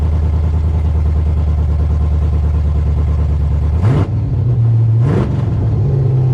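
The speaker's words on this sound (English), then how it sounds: "It's got to have a little misfire somewhere." A Corvette engine idling with a misfire, a loud close-up rumble with an uneven, stumbling pulse, two brief revs pushing the pitch upward before it drops back to the rough idle, with no voices.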